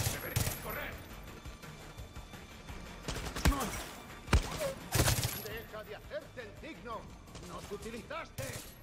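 Gunfire rattles at the player in the shooter game Far Cry 6, scattered bursts and sharp cracks among game noise, while someone talks over the action.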